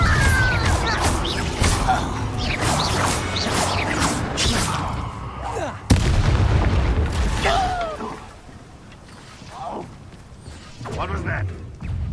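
A Bombarda spell explodes in Hogwarts Legacy, a sharp blast with whooshing, crashing and mechanical clatter around it, settling into quieter effects afterward.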